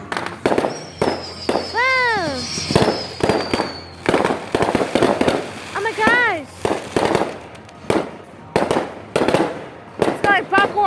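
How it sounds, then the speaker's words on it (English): Fourth of July fireworks bang in quick repeated bursts with whistling, crackling trails, fairly close and loud, while people exclaim excitedly between the blasts. "tell me in the comments, what is your favorite fireworks you ever seen?"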